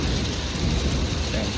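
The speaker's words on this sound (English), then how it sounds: "We outside in the hail." Hail pelting down outdoors in a steady, dense broadband clatter that fills the whole short stretch at a constant loud level, with no voices.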